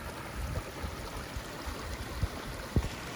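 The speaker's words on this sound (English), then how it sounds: "A little bit of a waterfall right there." A small snow-melt brook with a little waterfall on a muddy logging road in the White Mountains of New Hampshire, a steady soft rush of flowing water with faint gurgles and a few light knocks nearby.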